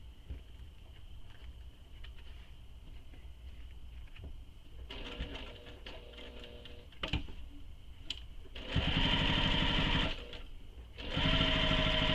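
A sewing machine backstitches the top of a shoulder bag slip pocket in short bursts that grow louder and longer toward the end, with faint pigeon coos in the quiet gaps.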